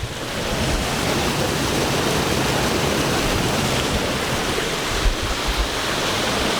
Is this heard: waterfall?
yes